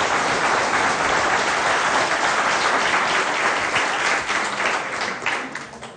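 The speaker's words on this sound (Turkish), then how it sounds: "Bir alkışı da Murat İlter'e gönderelim." Audience applause at a Turkish television program, a dense, sustained wash of many hands clapping that holds steady and then begins to taper off toward the end.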